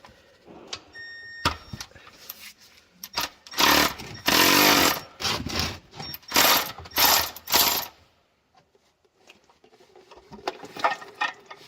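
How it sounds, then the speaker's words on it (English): A ratchet loosening the oil filter housing on a 400 bhp Saab 9-3 during an oil change, heard as close mechanical clicking and whirring in several loud bursts, then quieter, scattered handling noises. "we're ready to undo the oil filter housing and we are ready to drain the filter"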